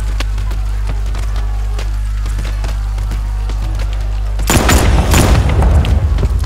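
In Batman: Arkham Knight, a low droning hum is punctuated by sharp ticking clicks, then a loud burst of booming, crackling gunfire breaks in near the end.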